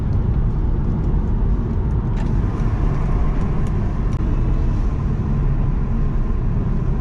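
An Audi TT Mk1 3.2 V6 quattro driven on the road toward a roundabout in second gear, a steady low engine drone and road rumble heard from inside the cabin with no voices.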